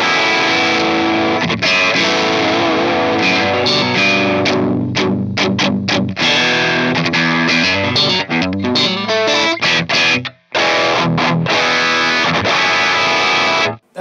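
A heavily distorted electric guitar played through a Fractal Axe FX II XL high-gain patch chugs and rings in loud, chopped riffs, with abrupt stops and brief silences between phrases.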